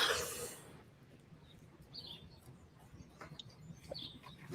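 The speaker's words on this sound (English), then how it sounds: "I can hear your birds chirping" Birds chirping faintly in the background of an online call, with a few brief high tweets scattered over a quiet room after an opening burst of noise.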